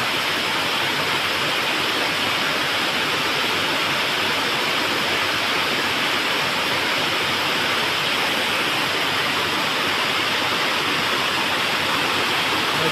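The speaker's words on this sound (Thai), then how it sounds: "ฝนก็เลยตกมาอยู่ก่อน วันนี้ตกแรงตกหนัก" Heavy rain pours in a dense, steady roar at an even level throughout, with no voices.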